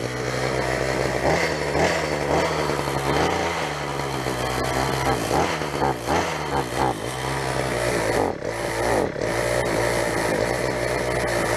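A garbage-picked gas string trimmer's small two-stroke engine runs loud and close, revving steadily with a rising and falling buzz for several seconds, then dipping briefly twice near the end before picking back up.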